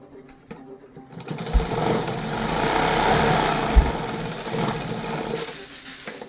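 A sewing machine runs a steady stitching burst along the folded edge of a blouse lining strip, fairly close and moderately loud, starting after a quiet moment and running to the end with slight changes in speed.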